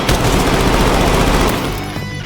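Sustained automatic gunfire from the video game Incursion Red River, rapid bursts rattling continuously and loudly for about two seconds before easing slightly at the end.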